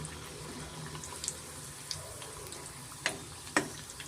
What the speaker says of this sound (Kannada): ನಾನು ಎರಡೆರಡು ಸ್ವಲ್ಪ ಎಣ್ಣೆ ಹಾಕೊಂಡು ನಾನು ನಿಪ್ಪಟ್ಟನ ನಾನು ಕರ್ಕೊತಾ ಇದ್ದೀನಿ ಎಣ್ಣೆಯಲ್ಲಿ